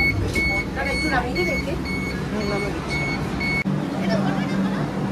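Warning beeps from a Vande Bharat train door before it opens: a steady series of short, evenly spaced electronic beeps, clear and close, running under ongoing talk and the rumble of the carriage.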